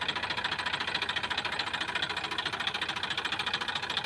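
A tractor engine runs on a farm during the wheat harvest, giving a steady rhythmic chugging pulse that stays even and close throughout, with no voices.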